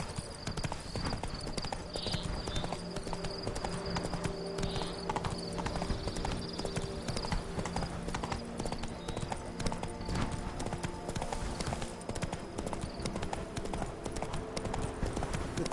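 Steady clip-clop of horse hooves galloping through The Witcher 3, a continuous rhythmic beat held close and loud for the whole stretch, with faint ambient game sounds underneath and no talking.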